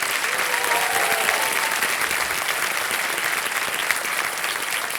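Studio audience on a quiz game show claps in dense, sustained applause that fills the whole stretch at an even level, with no pause or break.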